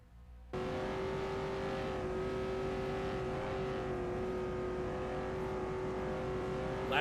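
A 1978 USAC race car runs a time-trial lap at Indianapolis, its engine holding a steady high-pitched drone at nearly constant loudness after cutting in sharply at the start, heard alone with no talk.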